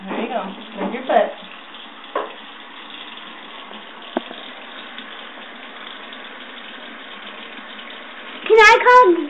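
A bathroom tap runs steadily into a sink during a child's tooth-brushing and hand-washing, a constant even hiss of water, with short bursts of a child's and an adult's voices at the start and end.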